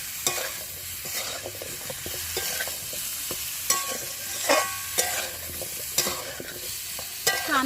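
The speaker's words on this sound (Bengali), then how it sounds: "এবার সব কিছুকে খুব ভালোভাবে মিশিয়ে হালকা করে ভেজে" Chicken stew ingredients seasoned with turmeric are stirred and lightly fried in a pan, giving a soft continuous sizzle with repeated scraping and clinking taps of the spoon against the pan, close and moderately quiet, with no talking.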